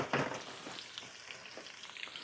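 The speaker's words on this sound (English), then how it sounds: "just sauteing this, frying it up in the bacon" Bacon sizzling and frying in a pan with vegetables for Southern-style fried green beans and potatoes, a steady crackling hiss with a stronger burst at the start, close and moderately loud.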